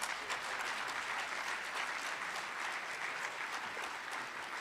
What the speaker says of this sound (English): let's give our Mr. President a round of applause